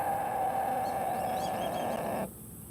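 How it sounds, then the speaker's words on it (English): Ducks calling from a nearby duck pond, short bird calls over a steady tonal background hum that cuts off abruptly near the end, no one speaking. "those are ducks, dude. Ducks. There's a duck pond over there."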